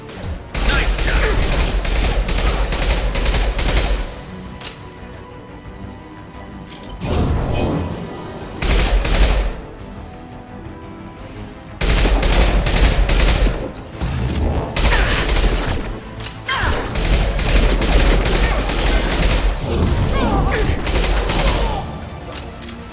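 Gunfire and explosions in a Mass Effect 2 Legendary Edition firefight, with loud sustained bursts of shots and booms that drop off briefly a few times before resuming, while a voice talks over the combat.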